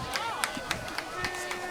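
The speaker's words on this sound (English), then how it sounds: "Good crowd on hand for tonight's game." A crowd murmurs in the stands at a high school football game between Riverside Vikings and Lakeland Chiefs, with scattered claps and thuds. A voice speaks over the noise.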